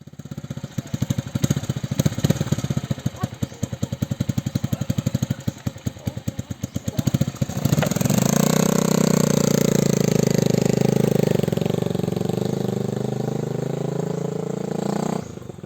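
Irregular engine putters for several seconds, then a motorcycle engine settles into a steady, loud idle hum that drones on before cutting off.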